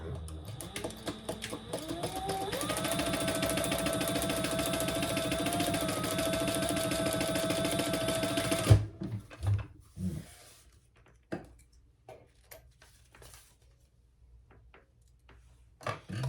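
A sewing machine runs steadily for about eight seconds, sewing an eighth-inch top stitch on a clutch crossbody bag. A steady mechanical whir is followed by quiet handling noises and faint rustles as the fabric is moved.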